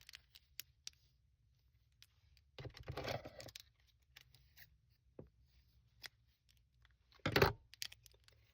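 Scissors snipping through crochet yarn at the end of a headband, a short crunchy cut around the middle and a louder, sharper snip near the end, with faint handling clicks between them and no talk.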